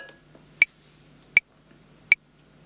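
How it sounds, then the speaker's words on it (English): A metronome ticking at 80 beats per minute for a We Will Rock You drum lesson: three sharp, evenly spaced clicks, clear and isolated against near silence. "So 80 beats per minute sounds like this."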